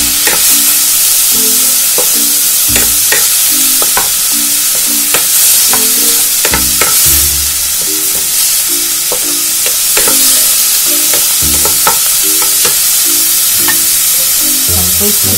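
Garlic paste and browned onion paste frying together in a pan, a loud continuous sizzle with a rhythmic series of spatula knocks and scrapes as the mixture is stirred.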